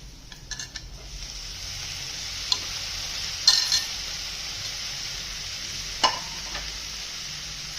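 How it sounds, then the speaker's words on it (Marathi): Chopped capsicum stir-fried in a turmeric tempering for a Marathi zunka, a quiet steady sizzle with a few sharp clinks of a spoon against the pan. "आता आपण याच्यात ना चिरलेली शिमला मिरची ऍड करू।"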